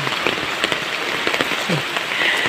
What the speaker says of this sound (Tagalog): Ganito talaga ang sitwasyon dito kapag malakas ang buhos ng ulan.